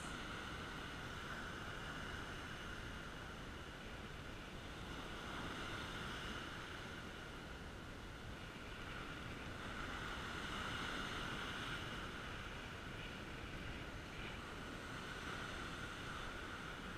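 Steady ocean surf washing onto a Long Island Sound beach during surf fishing for porgies, a continuous broadband roar with gentle swells and some wind, fairly loud and with no talking.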